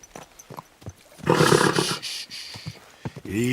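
A horse in the video game Kingdom Come Deliverance 2 snorts and lets out a loud, close whinny lasting about a second, with hoof clops and a few brief sounds around it.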